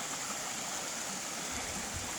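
A creek runs steadily beside a trail campsite along a forested section of the Appalachian Trail, its broadband rushing and gurgling water continuous and fairly close, with no voices.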